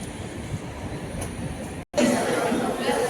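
Rumble and rolling noise of the Prayagraj Express at Prayagraj Junction during Kumbh crowds, a steady train roar with murmuring people on the platform and a brief cut near the middle.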